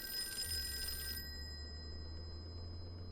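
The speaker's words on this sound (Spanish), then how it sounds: "Teléfono." Telephone in Call of Cthulhu, an old-style bell phone inside a detective agency office, ringing as a bright, steady, fairly loud tone for about a second, then cut off and followed by a low, steady hum.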